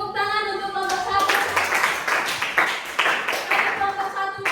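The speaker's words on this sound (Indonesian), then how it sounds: "Oke, tepuk tangan untuk kelompok 1." A classroom audience claps for a student group that has just finished presenting, a dense patter of hand claps running throughout with a sustained tone and some voices mixed in.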